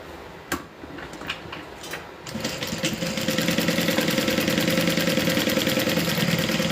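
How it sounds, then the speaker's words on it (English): A sewing machine stitches a fabric bag, starting after a few scattered taps and clicks and then running in a fast, steady mechanical hum with rapid regular ticking, close and continuous to the end. "I like to sew up and then sew back down"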